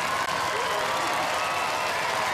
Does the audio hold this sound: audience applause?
yes